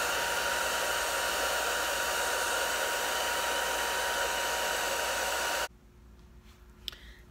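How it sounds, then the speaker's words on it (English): A hair dryer blows mousse dry on its cool setting while a wig is styled, a steady loud broadband whoosh for over five seconds that then cuts off, leaving a quiet room with a faint click. "then you're gonna blow dry the mousse on the cool setting"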